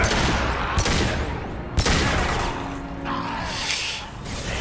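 Gunfire in the sci-fi shooter Mass Effect 2: sharp, loud individual shots with echoing tails, spaced a second or so apart, over a steady backdrop of combat ambience.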